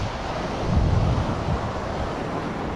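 Waves of the Black Sea wash onto a beach in Odessa, a steady broadband rush of surf mixed with wind buffeting the microphone, with a slightly louder swell in the middle.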